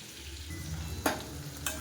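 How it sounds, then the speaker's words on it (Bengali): Potatoes frying in oil give a close, soft continuous sizzle with low hum underneath and two quick scraping stirs; no talking. "আলুটা ভাজা করে নিই একটু"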